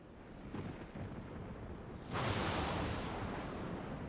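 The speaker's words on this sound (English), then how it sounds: "Now there's thunder in game." Thunder in the video game Final Fantasy XIV, a low rumble that swells into a sudden loud broadband crash around the middle and holds as a sustained roar, with no talking.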